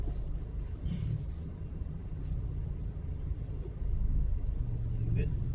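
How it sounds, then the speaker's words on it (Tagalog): Traffic on Ortega Avenue in Laguna, with cars crawling through a jam near a crossing: a steady low engine rumble from inside a vehicle, swelling slightly toward the end, with a few brief higher noises on top. "Mukhang matraffic na guys."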